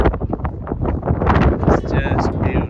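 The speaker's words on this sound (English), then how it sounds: "here we feel a lot of wind" Strong wind on a high cliff of Gozo island in Malta buffets the microphone in a loud, continuous rumbling roar, with a person talking underneath.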